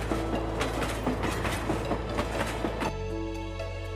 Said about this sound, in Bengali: সময় মতনই ট্রেন ছেড়েছে।